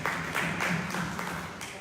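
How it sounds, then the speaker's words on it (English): Light, polite golf claps from a comedy show audience at a recovery fundraiser, a thin steady patter of scattered hands over a roomy murmur, modest and brief. "Some golf claps."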